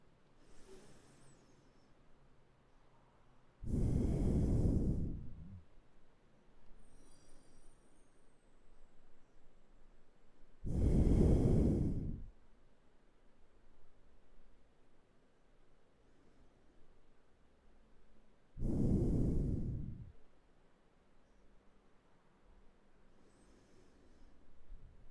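Slow, deep breaths during a yoga flow, three long airy exhales spaced several seconds apart, close and alone against a quiet room.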